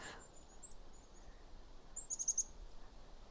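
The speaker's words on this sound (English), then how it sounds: "there's some little birds here" Little birds such as chickadees chirp along the wooded Chickadee Trail. A few thin, faint calls come from near and far over a quiet forest background, then a brief cluster of quick chirps follows near the end.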